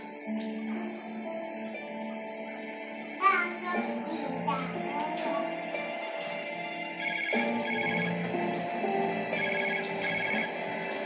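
A telephone ringtone keeps ringing unanswered, sounding in two pairs of repeated electronic bursts over a steady room background with faint voices, including a child's.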